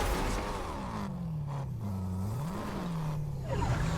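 A video game car engine drones and shifts pitch as it drives, with the tone dipping and rising through gear changes and revving, steady and fairly close with no talking.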